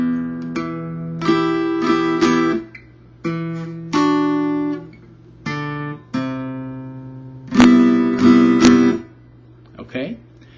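An acoustic-sounding guitar picks a slow riff in separate phrases with short pauses between them, close and alone.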